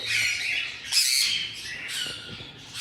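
A pet parrot of rosella or ringneck type gives sharp, shrill squawks close by, several harsh bursts in quick succession with brief gaps between them.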